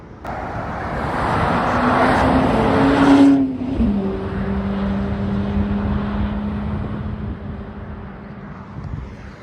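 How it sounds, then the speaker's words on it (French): A McLaren 600LT Spider roars past at speed on the A28 motorway, building to a loud peak, then dropping in pitch as it moves away amid traffic noise. "McLaren 600 LT Spider, je crois que je l'ai déjà vu la dernière fois. Magnifique, petit bruit en plus."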